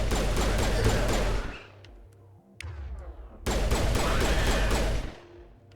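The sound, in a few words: gunfire in Mass Effect video game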